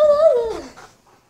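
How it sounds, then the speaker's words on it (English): A puppy gives a single short, high, wavering whimper that slides downward and fades within about a second, close and fairly loud. "It's a cute puppy."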